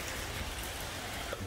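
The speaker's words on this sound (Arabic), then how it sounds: "طبعا المطر شديد جدا." Heavy rain pours steadily outside an old mosque in Belgrade, a dense continuous hiss of drops with no let-up and no voices.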